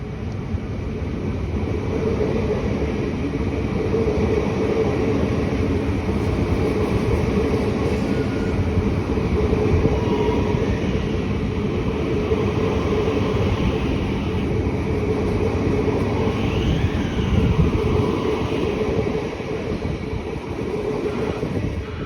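HCMT high-capacity metro train Set 70, the last of its class built, running on test at East Pakenham station, producing a steady, loud rumble and rolling drone that holds throughout with no talk.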